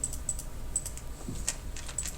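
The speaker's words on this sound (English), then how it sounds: "I can go to my calculator and type this in." Quick light taps of numbers being keyed into a calculator, several short clicks in a brief irregular run over a faint background hiss, close by and soft.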